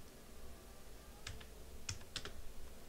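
Sparse computer keyboard typing, a few scattered keystrokes and short clusters of clicks close by, over a quiet room background with no speech.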